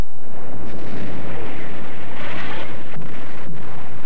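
Naval artillery fire from warships shelling a coast: a loud, sustained roaring blast with a heavy, wind-like rumble that rolls on without pause.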